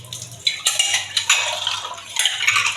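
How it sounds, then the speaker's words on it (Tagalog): A drinking glass is washed by hand: running water splashes close by while glass and dishware clink and knock in quick, irregular bursts. "itong baso natin gagamitin ay hugasan natin"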